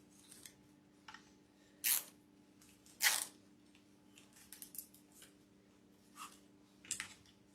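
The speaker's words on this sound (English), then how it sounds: "Go ahead and snip that off." Scissors snipping through tulip stems while a spring wreath is assembled: a few sharp, separate cuts spaced across the moment, each a crisp close snap over quiet handling noise.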